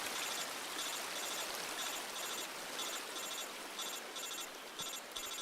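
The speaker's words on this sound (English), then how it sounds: "Nice little bit of water graphics here." Stream water flows continuously in Metal Gear Solid Delta: Snake Eater, a steady, full rush of moving water with no pauses, fairly soft and close.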